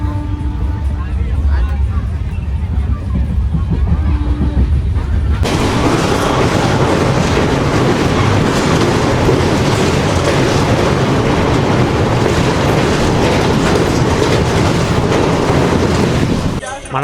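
An express train from Silchar to Coimbatore heard from inside a general coach, with a loud, continuous roar and rumble that sharply intensifies partway through and stays dense to the end, with no talking.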